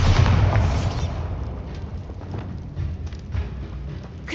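A Bombarda blast spell erupts in Hogwarts Legacy with a loud, heavy boom and rumbling low crash at the start, then a dense roar of debris and combat noise that carries on throughout.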